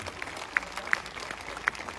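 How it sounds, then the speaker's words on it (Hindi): Applause from an audience at an educational event in Suratgarh honoring Dr. Ganpat Singh Rajpurohit, a steady wash of clapping with a few sharper claps standing out, moderately distant. "आपकी तालियां रुकनी नहीं चाहिए जब तक कि सर बोल नहीं देते"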